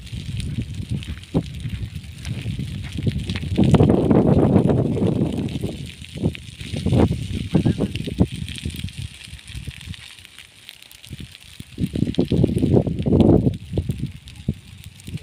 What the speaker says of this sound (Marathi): हे आग चालूच आहे.